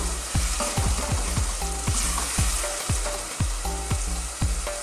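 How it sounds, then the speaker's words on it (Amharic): Onions for an Ethiopian red lentil stew fry with a loud, close sizzle under a rhythmic series of spatula knocks and scrapes against the pan, with no voices. "ሽንኩርታችን እየበሰለ ነው።"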